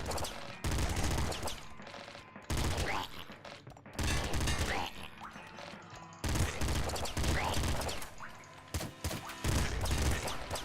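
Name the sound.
shotgun fire from crocodile enemies in video game Nuclear Throne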